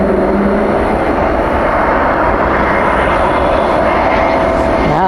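A jet airliner takes off at night at DFW airport, its engines a loud, continuous broadband roar that stays strong throughout, heard close from a plane-spotting spot.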